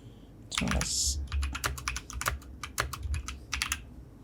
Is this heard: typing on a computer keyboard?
yes